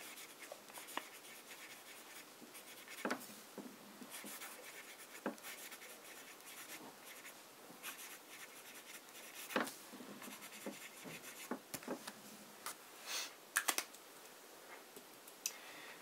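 Broad, wet fountain pen nib writing with Montblanc ink on paper, giving soft continuous scratching and rubbing strokes with small ticks, faint and close, no voices.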